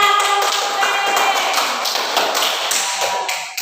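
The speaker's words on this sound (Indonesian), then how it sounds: "Tepuk tangan buat Dina." Clapping for a person named Dina, a dense and continuous patter of many hands that is loud and close throughout and eases slightly near the end.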